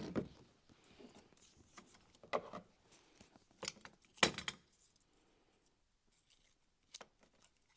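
Several sharp metallic snips and clicks, close and irregular, with quiet pauses between cuts.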